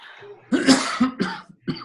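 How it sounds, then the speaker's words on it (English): Several harsh coughs in quick succession, close and loud, with short pauses between bursts. "I see I'm not the only one with a cough"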